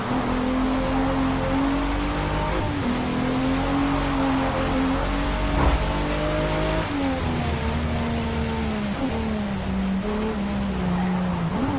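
Rain falls steadily during a night race in the Forza Motorsport racing game, a constant hiss running under a droning car engine that shifts pitch as it accelerates and slows.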